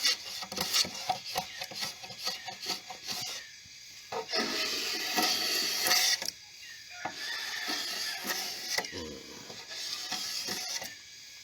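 Bamboo of the tang mun variety being scraped by hand with a blade to shave off its skin, giving repeated short, close rasping strokes in bursts with brief pauses between them.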